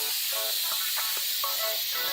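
Water sprayer test-fired to give a wide, fine spray: a steady, close hiss that stays continuous throughout with only slight faint variations.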